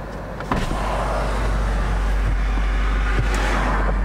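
The soft top of a 2021 Lexus LC500 convertible lowers while its windows go down. Electric motors whir steadily under a loud low rumble after a soft click, with no talking.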